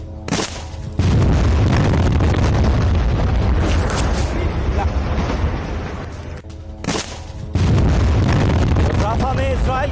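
Explosion from an IED detonated inside a Hamas tunnel in Rafah, Gaza: loud, sustained booming roar with heavy low rumble and debris-like crackle, surging twice with brief dips between, amid dense blast noise.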